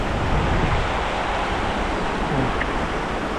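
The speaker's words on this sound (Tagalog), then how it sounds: "Ang lakas ng tubig" Strong, rushing water roars steadily and loudly throughout, a dense broadband wash close to the listener with no pauses or speech.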